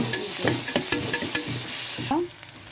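Ginger garlic paste frying and being stirred in hot oil with softened onions for Chettinad mutton gravy, with a steady close sizzle broken by repeated scraping stir strokes, then a quieter tail.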